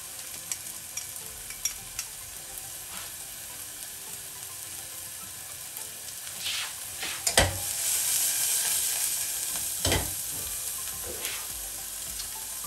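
Finely chopped ginger and garlic fry in a pan for Chinese stuffed peppers, a continuous close sizzle with scraping stir strokes and a few louder bursts as the pieces are moved around, with no voices.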